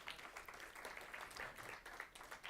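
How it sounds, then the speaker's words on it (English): An audience at a poetry and music event gives another round of applause for performer Mike Scala. The clapping is faint and distant, a continuous patter of many hands. "Another round of applause for Mike Scala,"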